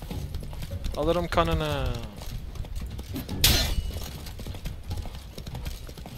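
Roach, a horse in The Witcher 3: Blood and Wine, gallops with steady clip-clop hoofbeats and a brief burst near the middle, under excited talk and game sounds.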